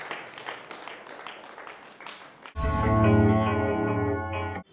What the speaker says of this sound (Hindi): बिल्कुल सही जवाब है, जोरदार तालियां